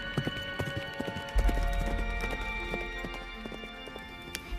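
A horse on a track over a mountain pass clip-clops in an even walking rhythm, its hoofbeats growing a little fuller partway through, with no voices over it.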